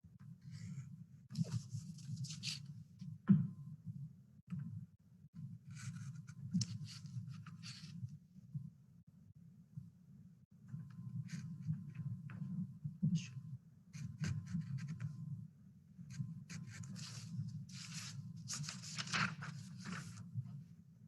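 A blade slicing through color board laid on a cardboard backing, heard as scratchy, rasping strokes in several separate bursts over a low steady hum, with quiet pauses between cuts.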